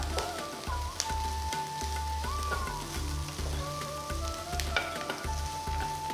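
Coconut pieces and radish chutney ingredients sauté in a pan, a steady soft sizzle with frequent stirring scrapes and a faint tonal hum beneath, no talk.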